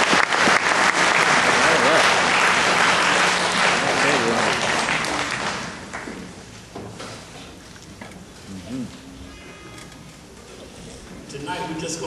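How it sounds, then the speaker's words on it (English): An audience applauds the SWCC alumni chorus, starting with loud, dense clapping that fades after about six seconds, followed by scattered claps and a voice speaking. "So give them a big round of applause"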